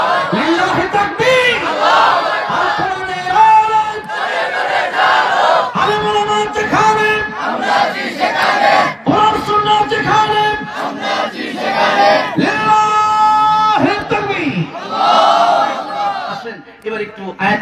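Large religious gathering crowd chanting loudly in unison in response to a takbir call: repeated rhythmic shouted phrases from many voices, a lead voice calling and the mass answering, close and powerful throughout.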